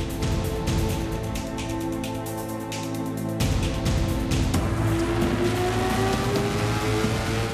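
A Lamborghini Aventador's 6.5-litre 700 hp V12 drives past and revs, giving a loud, sustained engine roar with rising harmonic tones and brief tyre squeal and no talk.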